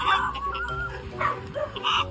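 A chicken in a yard gives a few short clucks and squawks nearby, with other faint animal noises mixed in and no one speaking.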